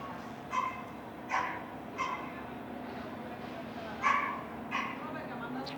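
A dog barks several times in short yips at a moderate distance, irregular spacing, over steady background hum on a bus.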